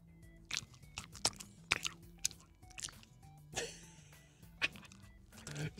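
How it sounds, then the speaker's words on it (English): A dog chews right beside a microphone, producing close, loud wet crunches and bites in an irregular rhythm, with faint background tones underneath. "That's some dog chewing ASMR."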